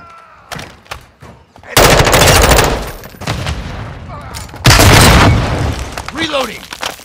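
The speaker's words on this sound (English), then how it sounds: "Enemy contact! Throwing frag!" A frag grenade explosion in Call of Duty: Modern Warfare II, two heavy booming blasts a few seconds apart amid gunfire and battle noise, with voices shouting in between.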